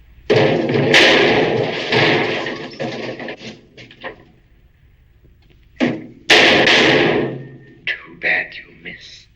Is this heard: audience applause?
no